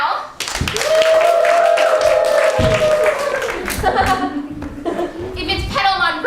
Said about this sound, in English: If it's Misty River you'd rather let continue,